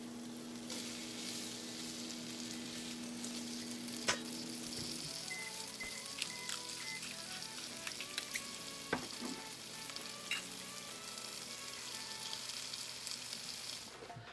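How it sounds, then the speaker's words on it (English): Green beans sauté in a nonstick pan, giving a steady, close sizzle and crackle for the whole stretch, with occasional stirring clinks and scrapes and no voices. "I'm going to do like saute some green beans just to like spice it up a little bit"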